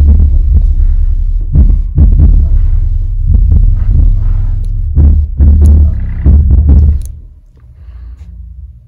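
A Klipsch RP1400SW subwoofer pumps deep, loud bass that makes the house rattle, with heavy booming pulses and buzzing rattles that drop away near the end.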